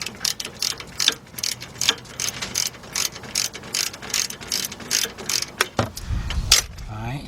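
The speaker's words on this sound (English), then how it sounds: "Maybe I should just use a straight ratchet." A straight ratchet clicks rapidly in quick bursts while loosening a brake caliper bolt on the rear brakes of a 2005 Chevy Suburban, close and crisp, ending in a low mechanical thud.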